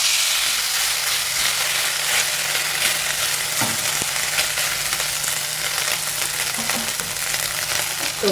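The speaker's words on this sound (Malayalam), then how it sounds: "ഞാൻ വേറൊരു പാൻ വെച്ച് കുറച്ച് നെയ്യ് ഇതിലൊന്ന് ഒഴിച്ചു കൊടുത്തിട്ടുണ്ട് കേട്ടോ" Ghee heating in a separate pan while egg biryani is layered gives a steady, fairly loud frying sizzle and hiss that runs unbroken throughout, with a few faint clinks and no voices.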